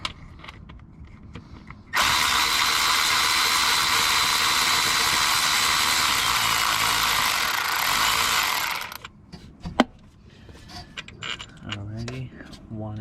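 A power tool backs out a 14mm starter bolt on a Toyota Corolla, a loud steady whir running about seven seconds before stopping abruptly, with brief clanks and faint rattling after.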